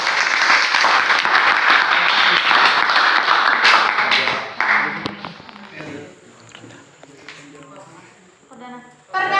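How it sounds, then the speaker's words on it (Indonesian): A classroom bursts into sustained applause, loud and dense for several seconds before thinning out, followed by scattered voices and chatter. "Ya, kasih aplaus."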